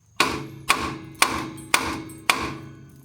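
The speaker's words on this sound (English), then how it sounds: "A little beating with a mallet should do some convincing." Mallet beating a seized suspension bushing on a high-mileage Lexus, five loud close metallic strikes evenly spaced about half a second apart, each ringing briefly, with no talk.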